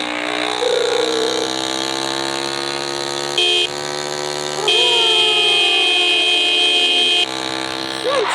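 A sustained, buzzy motorbike horn in a bike race video game blares continuously with slight shifts in pitch, layered over a steady synthetic engine drone.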